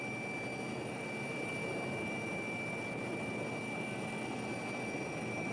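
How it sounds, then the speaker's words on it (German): A federal police helicopter sets down between other parked helicopters, its turbine giving a steady, loud rushing roar with a high constant whine throughout. "Einparken von oben in die exakt vorgegebene Lücke zwischen den anderen Hubschraubern."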